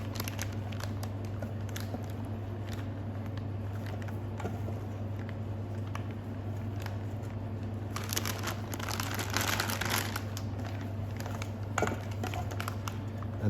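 Soft, sticky squishing and faint crinkling of a plastic piping bag as raspberry soufflé mixture is scraped into it, close and quiet over a steady low kitchen hum, with a busier patch midway and no speech.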